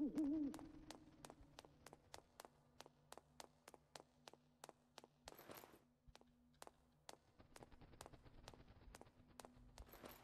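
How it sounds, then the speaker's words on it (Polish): A creature in the video game Night of the Dead gives owl-like hoots at the start, followed by a steady, evenly spaced ticking like footsteps that continues throughout. No talking. "Czemu on wydawał dźwięki jak sowa?"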